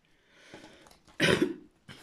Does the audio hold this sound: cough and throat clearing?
yes